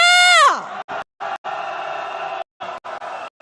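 A crowd of marchers at a candlelight impeachment protest march in Hongdae lets out a loud rising scream and whoop, then breaks into repeated shouted cheers in short bursts with brief gaps between them.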